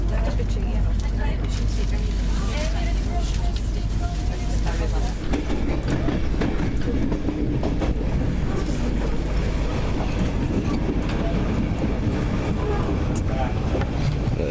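Steady low rumble of a train carriage running on rails near Doncaster, continuous throughout, with faint rattling and a brief shift in tone partway through.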